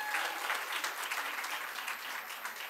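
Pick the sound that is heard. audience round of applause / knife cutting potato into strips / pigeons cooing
audience round of applause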